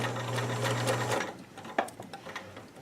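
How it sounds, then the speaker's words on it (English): Sewing machine back stitching black thread off the end of a skirt pocket, a steady mechanical whir for just over a second, then stopping, followed by faint handling clicks. "I'm going to back stitch right off the end of the pocket. And yeah, it's black thread."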